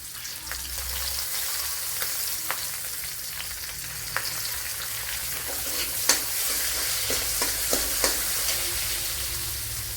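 Curry leaves and green chillies sizzle loudly in hot oil with garlic in a pan for a bitter gourd dish, a constant close crackle broken by a few sharp spatters and stirring taps.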